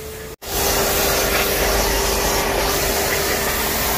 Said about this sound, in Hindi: बहुत तेज प्रेशर है, इसका मैं बिल्कुल चकाचक मिट्टी ये भी निकाल रहे हैं।